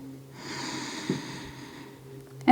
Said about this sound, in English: Breathing in for 3 seconds